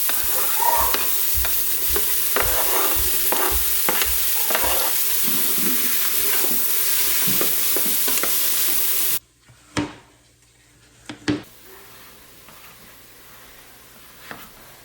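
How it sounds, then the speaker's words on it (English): Chopped onion sizzles loudly in melted butter in a pan, a dense continuous hiss with stirring scrapes, then cuts off abruptly to near quiet with a few faint knocks. "Then we're just going to add our chopped onion to the butter mixture."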